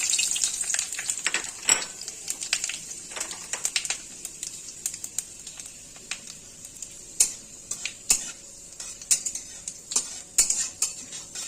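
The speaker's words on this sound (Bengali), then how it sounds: "ফোড়নে নিয়েছি 5 ফোড়ন, নিয়েছি তেজপাতা আর শুকনো লঙ্কা।" Five-spice, bay leaves and dried red chilli crackle in hot oil with a steady close sizzle, broken by frequent sharp spatters and utensil clicks against the pan.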